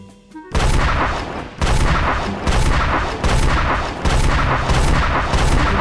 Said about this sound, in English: The universe began in a big bang.